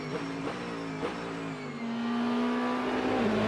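An IMSA GTD PRO race car, a Mustang in a battle at Indianapolis, hammers across the start-finish line; a loud engine revs through quick gear changes, then holds a sustained high-pitched wail as it accelerates away.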